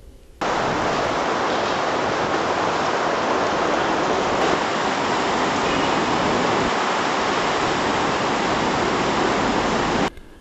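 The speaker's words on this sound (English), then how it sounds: "The current of water was very strong in the river." A strong river current rushes through a Himalayan valley, a loud, steady broadband roar of churning water that runs unbroken for about ten seconds with no voices.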